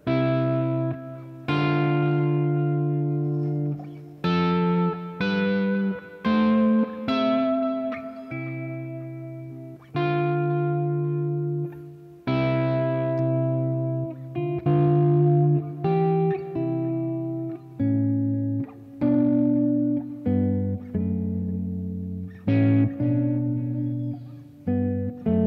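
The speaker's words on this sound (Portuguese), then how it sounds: "Posso brincar com o reverb." Electric guitar played through a reverb effect pedal in a pedalboard setup, a run of loud plucked notes and chords with lingering reverberant tails, one after another with brief gaps, no talking.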